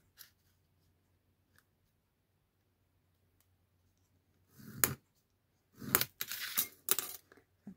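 A ruler edge scores a cardboard toilet paper roll in a quiet room: a few short scraping strokes close up, each under a second, after a near-silent pause broken by faint ticks.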